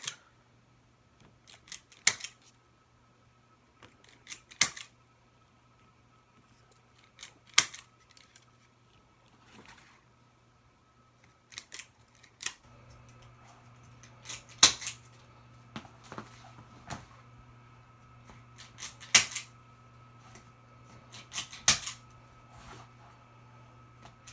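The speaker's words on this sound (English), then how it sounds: "I'm going to take my zip tie gun and tighten these up." A zip tie gun cinches plastic zip ties on a large poly burlap flower wreath board, giving a series of sharp separate clicks and ratchets spaced a few seconds apart over a low steady hum, fairly close.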